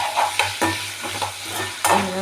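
Dried anchovies sauté gently in a pan over low heat, a steady soft sizzle broken by a few sharp scrapes and clinks of a spoon stirring against the metal.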